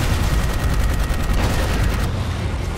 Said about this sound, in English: What's that cannon?